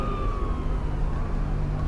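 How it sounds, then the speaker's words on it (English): A siren wails through city streets somewhere far off, its tone sliding slowly downward. It stays faint and continuous over a low background rumble, with no voices. "the distant wail of a siren echoed through the streets"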